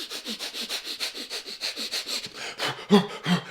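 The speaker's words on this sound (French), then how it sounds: "Vous respirez rapidement, d'accord?" Rapid, rhythmic sniffing breaths in quick succession, steady and close, ending with a couple of heavier, louder exhalations.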